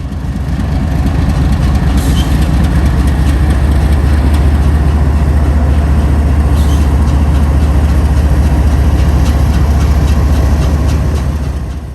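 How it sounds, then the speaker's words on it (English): Long Union Pacific freight train of about 214 cars on a double-track main line, rolling past as a steady, loud, low rumble of engine and rail noise that holds for the whole stretch with no talk. "The train is about 214 cars"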